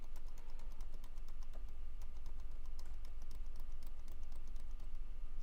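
Rapid, steady keystrokes on an old 29-year-old laptop keyboard being repaired, clicking continuously and close over a constant low electrical hum, with no talking.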